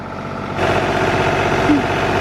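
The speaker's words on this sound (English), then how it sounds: "The tractor seems really loud." A tractor engine rumbles steadily nearby, growing slightly louder partway through, with a constant low drone and no talking.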